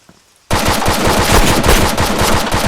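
Rapid automatic gunfire from a weapon in the video game ARMA III, a loud continuous burst that starts abruptly after a brief quiet moment and keeps hammering for a couple of seconds.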